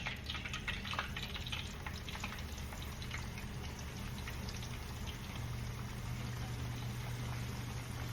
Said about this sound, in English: You wanna let this fry for about 6 minutes.